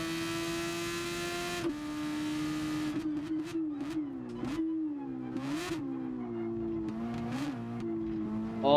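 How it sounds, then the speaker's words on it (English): Super Formula race car engine in GT Sport at night, a loud high-pitched howl rising and falling through repeated gear shifts and revs, with sharp upshift breaks and blips continuing across the whole stretch. "This car sounds so much better than the other one."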